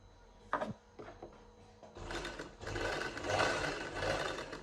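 A sewing machine stitching a lined kameez shirt gives a few handling clicks, then settles into a steady, close mechanical whir that runs on to the end.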